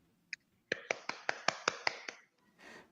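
A small burst of about eight sharp claps in an online session, close and dry in quick even rhythm, preceded by a single snap-like click and followed by faint rustling.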